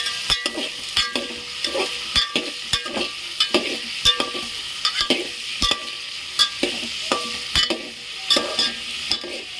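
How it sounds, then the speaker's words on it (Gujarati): A spoon scrapes and stirs tomatoes and vegetables in hot oil for a Gujarati cauliflower and potato sabji, making steady, regular strokes over a continuous close sizzle. "આપણે એને ચમચાની મદદથી આ રીતના હલાવી નાખીશું."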